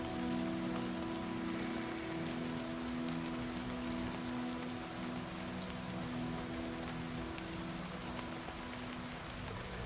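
Rain and wind in the video game Oblivion Remastered form an unbroken, moderately loud patter with a low airy rush and faint droning ambience, steady throughout with no speech.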